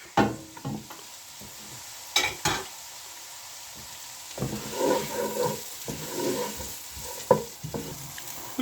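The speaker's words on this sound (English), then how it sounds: "2 onions have been finely chopped, and they will go in first, and we will soften those" Finely chopped onions soften in a frying pan, a low sizzle broken by stirring scrapes and clanks of a utensil against the pan, irregular and close, with no talk.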